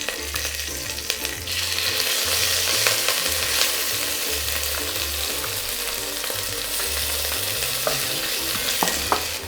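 Pounded garlic, ginger and onion frying for beef rendang over medium heat: a steady, close hiss of sizzling oil with repeated scraping stir strokes and occasional utensil taps, no talk.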